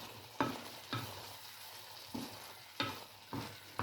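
Squid curry frying in a pan, a faint background sizzle broken by about seven sharp scraping stirs spaced roughly half a second apart, with no voices.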